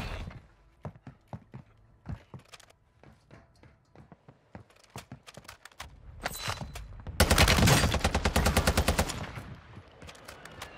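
TAQ V rifle in a video game, fired on rapid fire. Scattered sharp single shots come first, then a loud, dense burst of fast automatic fire, and a few trailing shots and clatter follow.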